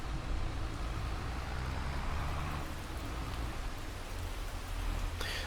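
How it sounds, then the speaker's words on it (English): Steady rain hissing continuously in Farming Simulator 22, a dense even wash of falling drops with a low rumble underneath and no voices. "Now it's raining, obviously."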